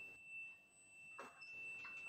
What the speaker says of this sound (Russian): Ставлю мультиметр на прозвонку.